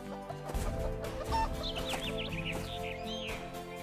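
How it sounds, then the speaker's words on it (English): A hen clucks in a steady run of close, busy calls that carry on throughout, with no talking. "went out to feed the hen"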